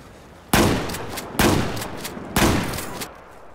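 Three loud, close pistol shots in Battlefield 4, roughly a second apart, each with a sharp attack and a long decaying tail.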